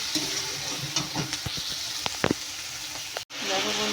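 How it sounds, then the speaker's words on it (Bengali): Onions fry in oil in a pan while cooking chicken kosha, a dense close sizzle with a series of quick spatula stirs and scrapes, then a brief dropout before the frying hiss resumes. "আমি পেঁয়াজটা দিয়ে দিয়েছি পেঁয়াজটা ভাজা ভাজা হয়ে যাচ্ছে দেখো"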